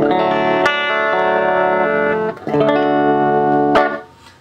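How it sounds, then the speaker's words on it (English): Clean electric guitar played through an Ibanez Echo Shifter ES-2 analog delay pedal: sustained chords ring out loud with repeating echoes, a brief gap, then another strummed chord that fades into trailing repeats. "Today we're gonna listen Ibanez Echo Shifter analog delay from Ibanez."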